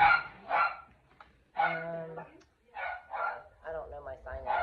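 A few short, soft barks and yips from household dogs come between stretches of someone speaking indoors.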